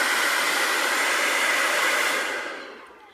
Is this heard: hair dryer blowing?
yes